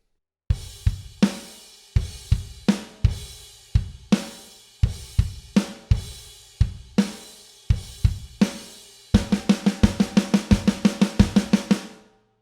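Drum kit playing the closing four bars of a song's chorus, steady kick, snare and crash pattern that ends in a rapid dense build of hits before cutting off, loud and close without talk.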